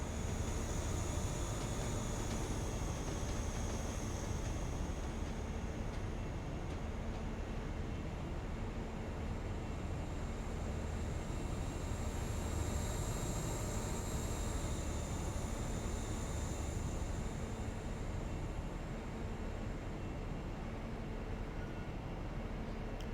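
A train passes in the Train Sim Classic railway simulator on the Western Mainline between Plymouth and Penzance, a faint, steady rumble with a soft high whine swelling and fading over a long stretch, with no talking.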